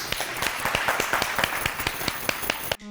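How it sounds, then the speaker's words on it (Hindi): Studio audience clapping during a talk-show magic round, a steady patter of many hands throughout at moderate loudness, cut off abruptly at the end. "तालियां"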